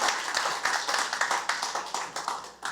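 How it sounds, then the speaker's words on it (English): Audience clapping at the close of a keynote presentation, a short burst of many hands applauding steadily and fairly close, fading slightly at the end. "Also your signal to clap."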